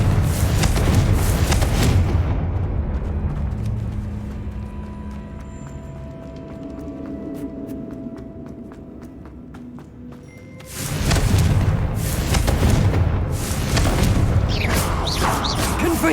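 Repeated Confringo blasting-spell explosions in the Hogwarts Legacy video game, loud booming bursts with crashing debris at the start and again near the end, separated by a quieter stretch of low rumbling and magical tones.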